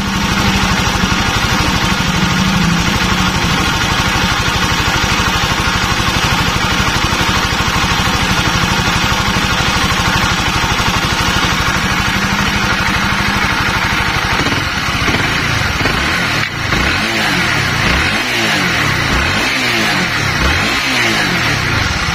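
Honda CBR 150 motorcycle engine running steadily and loud, close by, then revved up and down in repeated surges toward the end, no talk.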